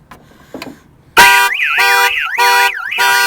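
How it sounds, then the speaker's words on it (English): A Viper car alarm triggered by opening the hood blares loudly after a quiet lead-in, cycling a rising-and-falling warble in repeated siren bursts. "I'm going to set on the alarm. Give it about 5 seconds to arm. Then I'm going to open the hood."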